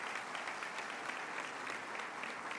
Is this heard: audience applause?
yes